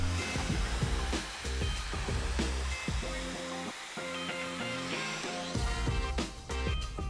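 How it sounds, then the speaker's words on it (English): A hair dryer blows hair dry over a round brush, a close, steady airy rush whose loudness shifts as it moves, with brief dips and bursts and no speech. "I'm just going to release this top section and blow dry it with a round brush"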